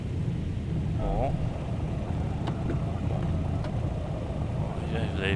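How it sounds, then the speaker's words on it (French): A Douglas DC-3 lands in a flight simulator game, its tires giving short squeals over a steady low engine drone and rolling rumble. "Vous avez les pneus qui crissent là."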